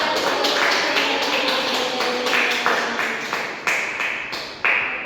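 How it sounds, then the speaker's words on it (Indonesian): Classroom of students applauding a classmate, a sustained wash of many hands clapping with rhythmic group pulses roughly once per second, moderately loud and close, without talk. "Tepuk tangan untuk teman kita."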